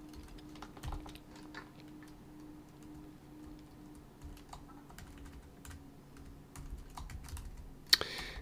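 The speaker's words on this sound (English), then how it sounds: "I'm getting tired of typing spaces" Computer keyboard typing in a quiet room, a steady stream of light, close clicks and taps with occasional louder keystrokes and a sharper burst near the end, no voices.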